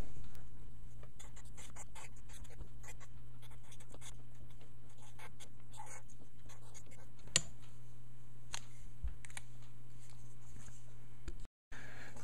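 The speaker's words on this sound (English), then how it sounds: "I will draw it out on this piece of paper" Pen scratching across paper while a relay wiring diagram is sketched, soft intermittent scribbles and taps over a steady low hum, close and quiet, with a brief dropout near the end.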